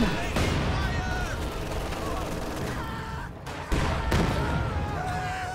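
Machine gun fire in a real-time strategy battle between a grenadier squad and a captured machine gun, with repeated bursts and sharp shots over dense battle noise while a commentator talks excitedly throughout.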